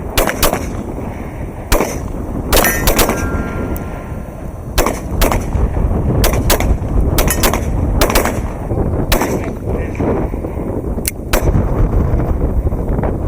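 Gunshots ring out at an outdoor shooting range during a carry training class, loud sharp cracks in an irregular series of single and quick paired shots over steady background noise, with no talking.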